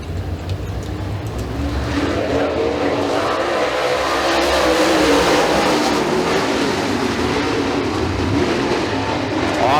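Super late model race cars roar through a heat race at Freedom Motorsports Park in the Pete Loretto Memorial, a loud continuous engine drone that swells and holds steady as the field runs together.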